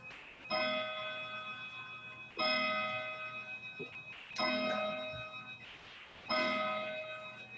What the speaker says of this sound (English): I'll wait for the clocks to quit ringing here